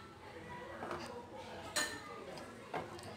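A spoon stirs Bombay karachi halwa in a pan with soft scraping and two sharper clinks of metal against the pan, quiet and close, with speech nearby.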